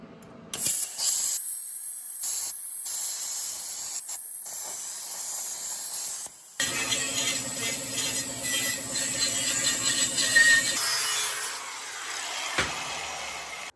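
A harsh, steady hissing cut from a power tool runs through a metal flange plate for turbo headers for several seconds, with brief interruptions and a buzzing grind partway through.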